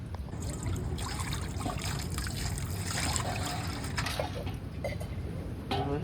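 Water is poured to wash vegetables in a home kitchen. A continuous trickling, splashing flow runs close by at steady strength, with faint clinks.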